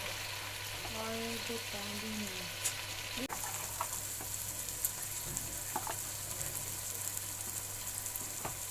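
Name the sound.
frying tomatoes with red chili powder in pan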